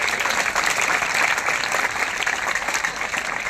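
A crowd claps steadily and loudly at a school baseball tournament event for under-17 boys and girls, a dense, continuous patter of many hands without a break.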